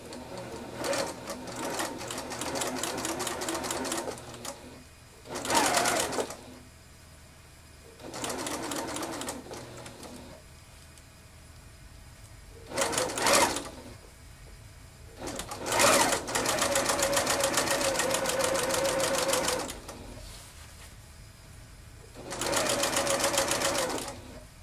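A sewing machine stitches down the side of a scrub cap in several bursts of fast, steady whirring, separated by short pauses and quiet handling, close and loud.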